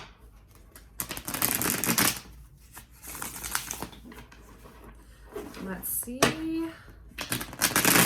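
Tarot cards being shuffled by hand during a reading, giving a run of quick papery riffles and slaps in bursts, with a voice talking briefly over them at close range.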